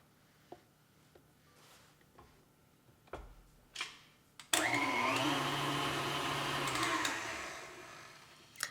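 An electric mixer whirs steadily at medium-high speed, blending cookie dough for stuffed peanut butter and jelly cookies. A few light clicks and taps come first, then the loud, continuous motor drone starts and holds nearly to the end.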